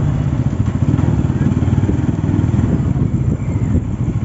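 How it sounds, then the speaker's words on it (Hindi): Two motorcycles on a ride from Kolkata to Subhasgram idle together close by, a loud steady throbbing engine rumble with light clatter and no breaks. "दोनों बाइक्स आ चुके हैं एक साथ"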